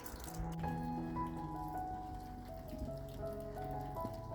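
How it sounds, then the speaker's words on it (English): Light rain drips outside on the edge of a mountain after a day of heavy downpour. A faint, steady patter of drops continues throughout, with no talking. "It's not much rain now"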